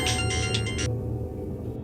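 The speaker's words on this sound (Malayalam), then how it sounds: "എന്താ പൊട്ടിയ ഫോണിന്ന് ശബ്ദം വരുന്നത്?" Phone ringtone sounding from a broken phone, a bright repeating electronic tone pulsing loudly for about a second before cutting off abruptly, leaving a low steady hum.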